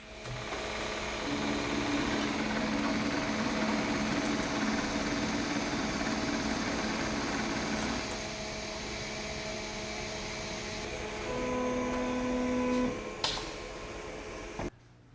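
An automated TIG welding machine runs along a muffler seam, a steady motorized whirr with a tonal hum that shifts in pitch midway, then cuts off abruptly near the end.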